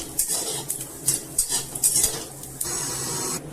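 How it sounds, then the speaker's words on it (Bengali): Whole spices dry-roasting in a wok, stirred with a metal spatula that scrapes and clinks against the pan in irregular bursts, over a faint sizzle, close and clear. "গোটা মশলাগুলোকে শুকনো কড়াইয়ে ভেজে নেব।"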